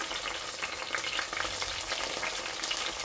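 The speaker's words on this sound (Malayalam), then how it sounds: "ഞാനൊരു രണ്ട് തക്കാളി ചെറുതാക്കി അരിഞ്ഞു വെച്ചിട്ടുണ്ട്, അത് ചേർക്കാം" Two large chopped tomatoes go into browned onions in a pan for kofta. A steady, bright frying hiss follows with faint crackles and occasional stirring scrapes, and no talk.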